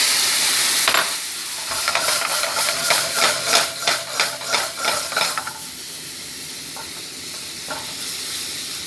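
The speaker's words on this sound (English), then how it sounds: "Throw the raisins in, throw in the cinnamon, and then the Thrive sizzle." Instant quinoa with raisins and cinnamon sizzling in a pan, a loud hissing fry broken by a series of rhythmic stirring scrapes that fade back into a steady, quieter sizzle.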